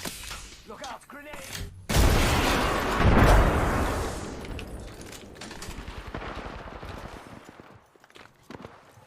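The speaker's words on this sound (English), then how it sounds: "Look out, grenade!" A grenade goes off in a video game firefight, with a loud blast swelling early followed by a scatter of gunshots and footsteps trailing off; no talk during the clip.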